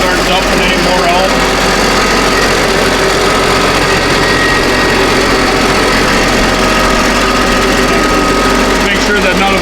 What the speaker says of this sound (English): Once you get the pump on